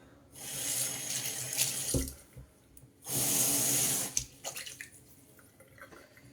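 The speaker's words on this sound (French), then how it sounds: "Je rince bien." Water runs from a sink tap during rinsing, in two strong bursts of splashing flow separated by a quieter pause, with a few small clinks and drips as it tails off.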